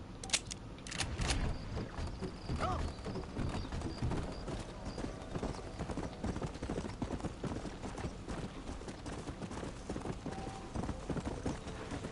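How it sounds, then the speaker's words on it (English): Repeated hoof clip-clops of a horse in Red Dead Redemption on PS4, a continuous close trotting rhythm under game ambience and faint music, with a few sharp clicks near the start. "Oh God, horse, come on."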